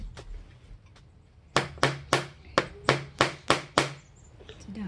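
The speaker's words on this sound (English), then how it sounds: "I'm just gonna use this to punch a hole." A hole is punched through a chart with a hand tool instead of a hammer, producing a run of about nine sharp, evenly spaced knocks struck close by.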